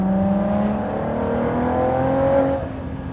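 Ford GT engine in a manual downshift while driving the Nürburgring, a close droning engine tone whose pitch shifts and rises before dropping back, loud inside the cabin with no talk.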